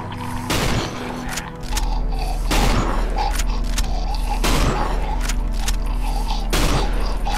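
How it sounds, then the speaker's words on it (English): Heavy rifle shots from a hunting rifle boom out in a survival horror game, four loud cracks spaced about two seconds apart, each with a long ringing tail over a constant low rumble of game ambience. "I think we might just be able to kill him with a hunting rifle"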